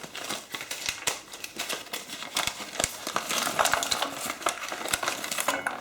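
Chocolate bars being snapped and broken by hand into a pot, a close series of sharp irregular cracks and crinkling wrapper rustles with light clinks against the metal.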